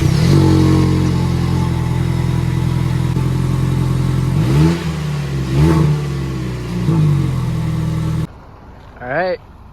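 Engine of a 2025 Toyota Tacoma pickup truck starting and running, a loud steady engine drone with a few rising revs, then cutting off abruptly near the end before a brief faint tone.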